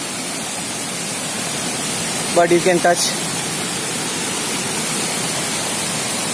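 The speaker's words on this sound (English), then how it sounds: "this is a topmost place of Mankayam Waterfall" Rushing water at the top of Mankayam Waterfalls near Trivandrum fills the whole clip as a steady, dense roar. A brief spoken remark passes over it midway.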